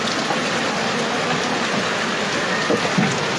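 Heavy rain pours steadily during a typhoon flood in a flooded neighborhood, a dense, continuous hiss of downpour close by with no speech over it.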